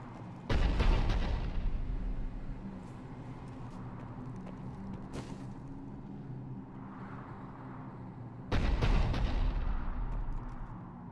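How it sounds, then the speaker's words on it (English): Two loud cannon blasts in the video game Mass Effect 3, about eight seconds apart, each a sharp boom followed by a long rolling rumble, with quieter ambient noise between. "The cannon fire is clearing the way."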